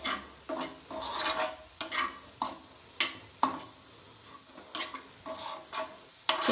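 Cauliflower paratha stuffing cooks in a pan, with steady sizzling under repeated scraping and stirring strokes at roughly half-second to one-second intervals, close and moderately loud.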